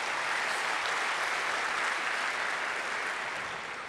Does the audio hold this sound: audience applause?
yes